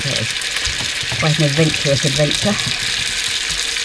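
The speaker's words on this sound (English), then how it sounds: "The sound of sausages sizzling away." Sausages sizzle and crackle steadily in a hot pan aboard a 1946 Laurent Giles Peter Duck sailing boat while a person speaks briefly over the frying.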